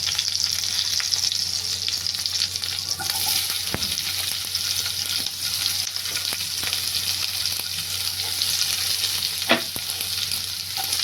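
Onion sautéing with roasted garlic in a pan for a wild village vegetable dish gives a steady, close frying sizzle, with occasional scrapes and stirring clicks and one sharper knock near the end.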